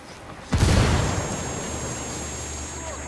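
A frag grenade goes off in one sudden loud boom, followed by a long rumbling decay and lingering noise over the next few seconds.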